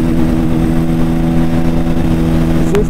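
A Bajaj Pulsar N160 motorcycle engine running at speed through the gears: a loud, close, steady mechanical drone that holds an even pitch throughout, with no talking.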